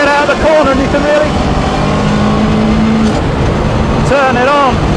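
Lancia Delta engine revving hard as it accelerates out of a corner at Donington circuit, a loud rising roar with gear changes, heard close from inside the car alongside some talk.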